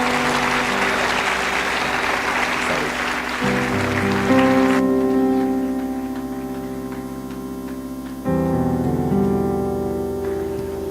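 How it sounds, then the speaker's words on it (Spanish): A church congregation applauds in a dense, hissing wash over sustained keyboard chords; the clapping fades after a few seconds, leaving the music alone. "Dale un aplauso al Rey bendito."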